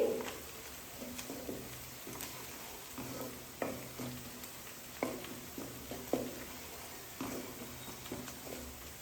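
A spoon stirring turmeric through a sizzling pan for chicken curry, giving a steady close frying hiss with repeated scraping and tapping strokes at an uneven rhythm.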